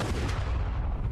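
A gunshot rings out in The Walking Dead Season 2 video game, a loud, heavy low boom that fills the short stretch with dense rumbling energy and no talk over it.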